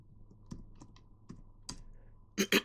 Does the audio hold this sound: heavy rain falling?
no